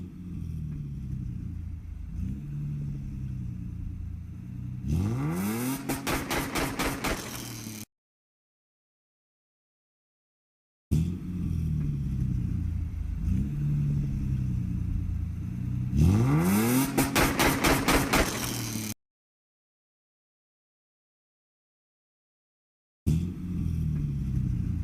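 A car engine revs hard in loud bursts, climbing pitch sharply in repeated surges, with abrupt silent gaps between the passes and no voices.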